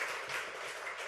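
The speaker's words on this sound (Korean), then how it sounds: "우리 건강하시라고 박수 한번 해주세요." A church congregation applauds, a dense, even wash of clapping hands that holds steady for the whole short stretch, moderately loud with no voices.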